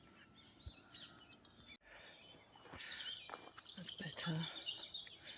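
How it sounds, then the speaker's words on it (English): Birdsong in the woods: scattered chirps and tweets from several birds, near and far, running throughout, with a brief spoken remark partway through. "I'll let you listen to the bird song for a while."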